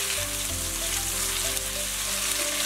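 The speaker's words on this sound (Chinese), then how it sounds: "锅中倒点食用油，把裹好鸡蛋的豆腐煎一下" Egg-coated tofu pieces frying in cooking oil in a pan, giving a steady, close, crackling sizzle that runs throughout without talk.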